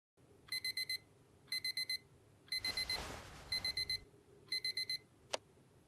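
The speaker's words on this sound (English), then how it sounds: "The original alarm chime." An alarm chime from a video game rings in repeated bursts of rapid beeping, about six groups spaced roughly a second apart, with a brief noisy rush partway through and a single sharp click near the end.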